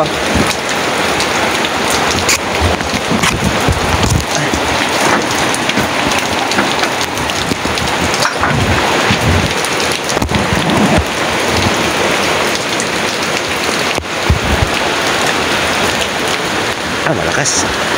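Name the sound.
heavy rain and thunder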